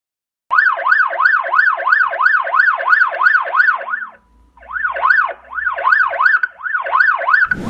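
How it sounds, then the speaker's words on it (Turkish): A smart video doorbell's loud electronic siren wails in rapid repeating rising-and-falling cycles, pauses briefly, then resumes close and harsh. "siren de yüksek bir sesle çalıyor"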